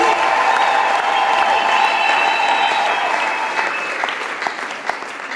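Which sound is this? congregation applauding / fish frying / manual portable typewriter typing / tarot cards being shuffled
congregation applauding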